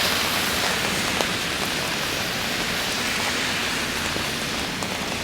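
Heavy rain pours down in Halifax, a dense, steady hiss close by with no letup and no voices.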